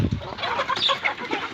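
Chickens clucking and chattering close by, a busy overlapping flock with short repeated calls throughout.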